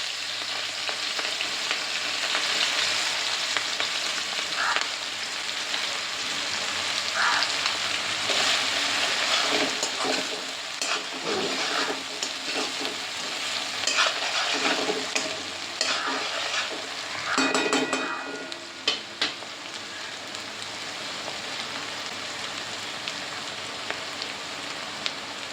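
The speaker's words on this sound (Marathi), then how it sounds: "त्या अगोदर आपण टाकणार आहे लसूण, आलं आणि मिरची आणि सेलरीचं चॉप केलेलं सगळं." Chopped garlic, ginger, chilli and celery frying in a pan for chicken fried rice, a loud, continuous sizzle and crackle with stirring scrapes up close, no speech throughout.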